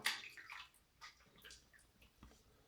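Water splashes as a man rinses his face after shaving with a dollar store razor, a burst of close wet splashing at the start followed by scattered faint drips and small splashes, with no talking.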